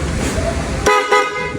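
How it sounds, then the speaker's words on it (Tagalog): A horn sounds on a Honda TMX 125 scrambler motorcycle, two short, loud, bright honks in quick succession with a running engine and background noise underneath. "Busina."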